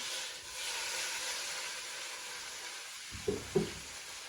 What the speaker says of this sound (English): we're just going to start frying it off quickly